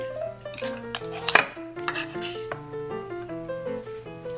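Chopped garlic cloves being handled in a big bowl, giving a run of close, bright clinks and scrapes of a utensil against the bowl, with one louder knock partway through.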